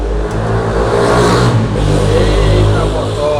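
The motor of an HP LaserJet P2055DN printer, under repair for a fuser fault, runs with a steady low mechanical hum and whir that swells slightly mid-way, while a person talks over it.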